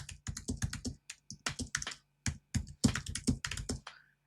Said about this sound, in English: Sorry, I went into typing mode here